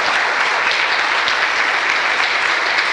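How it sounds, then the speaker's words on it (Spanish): A church congregation gives a steady, dense round of applause, loud and even from start to finish with no pauses. "Dale un aplauso al Señor"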